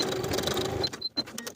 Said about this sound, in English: Then we can go to the sewing machine and bar tack along the top edge to secure the back of the strap.